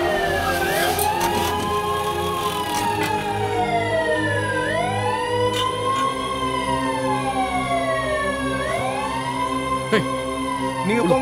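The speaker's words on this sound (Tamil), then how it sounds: "ஆமா, இது ஆம்புலன்ஸ் வந்துருச்சு" An ambulance siren wails loudly and close by, its pitch sweeping up and down in repeated cycles over a running engine, continuous throughout without speech.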